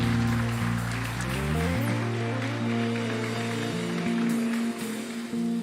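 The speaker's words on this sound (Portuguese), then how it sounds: "Louve ao Senhor com as suas palmas" A church congregation claps along, a dense, steady wash of hands under loud sustained music that fills the room throughout.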